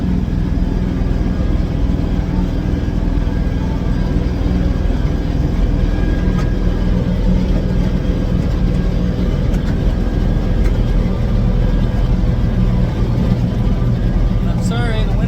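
An LS tractor pulling a Hesston swather cuts hay around the edge of a field, a steady low engine drone and machinery rumble heard from inside the closed cab, continuous throughout with someone talking over it.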